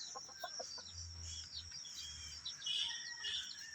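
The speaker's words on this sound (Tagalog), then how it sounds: "Ayan, yung tumitilaok na yan." Chickens cluck and call in a quiet outdoor setting, with a Belgian Shamo x Shamo Aseel rooster's crow among the faint, scattered bird sounds.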